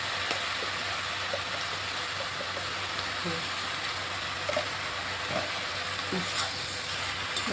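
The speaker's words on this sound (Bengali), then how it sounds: "ভালোভাবে মশলার সাথে ফুলগুলি কষিয়ে নেব" Soft steady sizzle of Sesbania (bok) flowers being sautéed with spices in a pan, a continuous hiss with occasional faint stirring clicks and a voice speaking quietly in the background.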